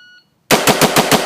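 Rapid gunfire in a timed shooting drill at a tactical training range: after a brief beep and a short pause, about six loud, close shots ring out in quick, even succession.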